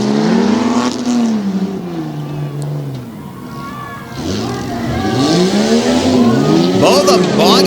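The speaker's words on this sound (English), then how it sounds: "And Faust getting off the starting line in a hurry, trying to get away from Joey Bates." Modified stock trucks in an unlimited stocks race at Hughesville launch off the starting line, engines revving and rising in pitch with tires squealing, mid-distance and loud, under a commentator's voice.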